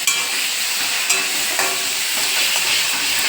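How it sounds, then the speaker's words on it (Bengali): Panch phoron spices sizzling in hot oil while being stirred, a close, bright continuous crackle and hiss with a few scraping stir strokes and no talk. "একটু পাঁচ ফোড়ন দিয়ে দেখলাম আজকে কেমন লাগে।"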